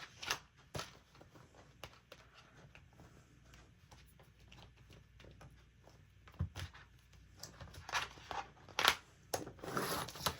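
Scissors trimming about an inch off a piece of craft material for a Cricut project, a few quiet crisp snips and rustles up close, with louder cutting and crinkling toward the end.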